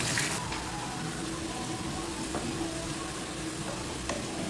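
Chicken fries in hot oil in a pan, a close, dense, steady hiss with a few faint clicks from the pan under it.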